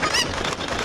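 A chicken in the video game Zelda: Ocarina of Time lets out a short, loud, squawking cluck, heard alone and up close.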